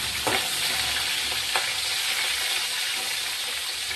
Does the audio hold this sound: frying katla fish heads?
yes